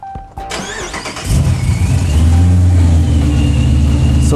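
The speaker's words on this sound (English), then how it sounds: "I'm actually gonna fire the vehicle up so we can see this thing recording in real life" A car engine cranks briefly after a few clicks and catches, settling into a loud, steady idle close by with a low, even rumble.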